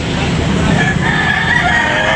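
Chickens and roosters packed together at a Sunday poultry auction market, a dense continuous din of clucking and crowing with a faint voice underneath.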